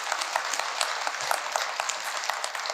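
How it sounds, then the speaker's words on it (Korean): Audience applause at a Buddhist dharma lecture assembly, steady dense clapping from a crowd throughout, fairly even in level with no speech over it. "저는 박수 그다지 좋아하지 않습니다."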